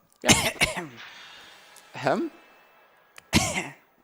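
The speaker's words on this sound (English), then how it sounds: "I'm just coughing." Three harsh coughs close to the microphone, spaced about a second or more apart, with faint background hum between them.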